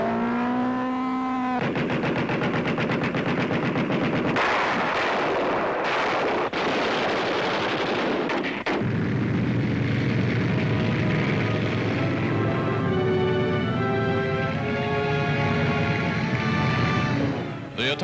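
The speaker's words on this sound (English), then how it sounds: "A landing craft is hit." A World War II landing at Anzio, Italy, with a landing craft under attack: loud, dense bursts of gunfire and heavy explosions roar continuously and harshly throughout, mixed with droning engines and whistling tones.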